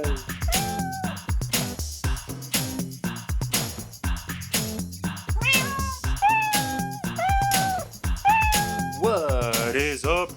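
A cat meows repeatedly and loudly at close range, a string of drawn-out, wavering calls, some rising and falling into a caterwaul near the end, over a busy background.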